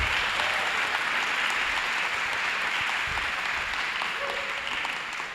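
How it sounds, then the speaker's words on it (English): At a mayoral candidate debate, an audience gives sustained applause that fills the room for around five seconds, steady and even before tapering slightly at the end. "would you please applaud them for being so cool, and you did it"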